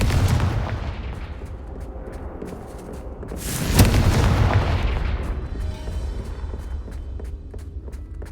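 Spell explosions from Bombarda and Confringo in the Hogwarts Legacy video game: a low rumbling game soundscape with a loud burst and booming swell near the middle, then fading crackles and rumble.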